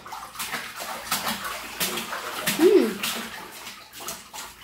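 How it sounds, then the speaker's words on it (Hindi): A small child splashes and sloshes water in a bathtub at bath time, with steady close splashing and dripping throughout. "ये पानी के साथ प्लेइंग कर रहे हो आप?"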